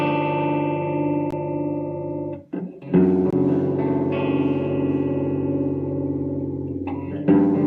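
An electric guitar chord strummed through a Boss CH-1 Super Chorus pedal with the controls maxed, giving a slightly distorted, warbling shimmer; a sustained chord rings, breaks briefly and is struck again, loud and close.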